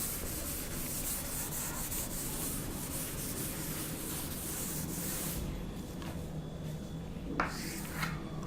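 Continuous dry rubbing of an eraser or cloth wiping writing off a classroom board, steady scraping strokes close by for several seconds, easing off toward the end with a few brief squeaks.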